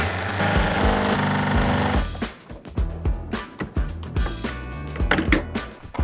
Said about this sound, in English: these screws are rusted. And that means we have to drill them out one by one